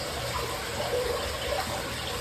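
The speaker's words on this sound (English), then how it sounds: "they have a pump in them that just sucks out all the water" Steady rushing and gushing of water as a pump sucks water out of a fish tank during a water change, a continuous close hiss with no talking.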